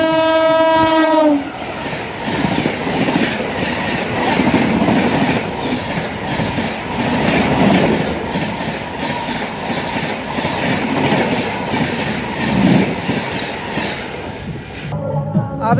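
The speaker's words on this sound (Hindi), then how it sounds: "एक और ट्रेन शानदार हॉकिंग के साथ दोबारा से" An express train on an Indian railway line sounds a loud horn and then rolls steadily past close by, its wheels clattering over the rails for the rest of the pass.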